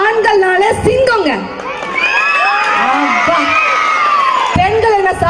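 A crowd at a Tamil Paatu Pattimandram debate event in Katpadi cheers and whoops, with high voices shouting and rising, loud and close, and singing or speech around the noise.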